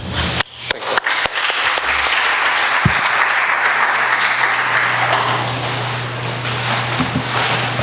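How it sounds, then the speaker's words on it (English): An audience at a JCI conference event breaks into loud, sustained applause after a few initial sharp claps, a full even roar of clapping that continues to the end. "please join me in a big applause, Amadeu"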